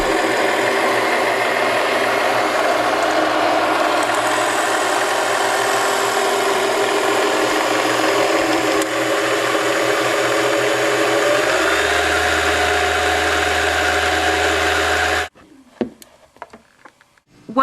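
Sewing machine motor running steadily under foot-pedal control while winding a bobbin, a continuous close whirring hum that holds for about fifteen seconds, shifts slightly partway through, then cuts off abruptly into quiet.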